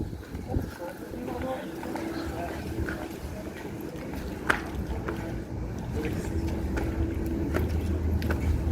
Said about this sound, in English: Can hear some trams.